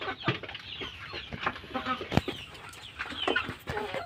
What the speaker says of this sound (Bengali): আর এগুলো হচ্ছে ফার্মি বড় মুরগি।